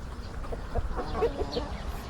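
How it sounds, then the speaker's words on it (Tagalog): Chickens cluck softly in a low murmur against a noisy outdoor background, the calls faint and overlapping. "Ito yung mga manok natin."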